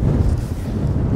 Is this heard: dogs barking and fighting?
no